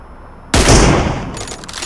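A single loud sniper shot from an M24 rifle in a mobile battle-royale shooter game cracks suddenly after a quiet moment, then a booming tail decays over about a second.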